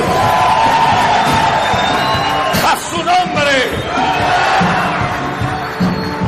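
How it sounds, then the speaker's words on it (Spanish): A church congregation during a sermon shouts, whoops and cheers loudly in a dense, reverberant crowd roar, swelling in the middle, with a voice speaking over it. "Se vale gritar y se vale aplaudir"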